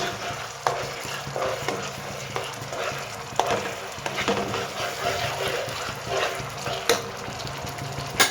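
Egg masala sizzles and fries steadily in a pan, with repeated scraping and stirring strokes and occasional clacks of the utensil against the pan.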